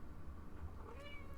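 A pet cat gives a faint, short meow from nearby, rising and wavering over a low, steady room rumble.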